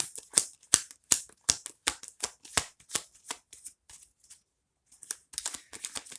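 Tarot cards being drawn and handled during a Libra reading: a quick series of crisp card snaps and flicks, close and fairly loud, pausing briefly before more shuffling rustles resume.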